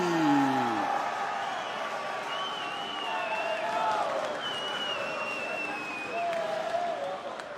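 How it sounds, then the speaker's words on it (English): A loud crowd roars and cheers continuously, with whistles and shouts rising above a dense wash of noise, plus a voice talking over it. "as the crowd goes crazy for Manolo Zecchini here"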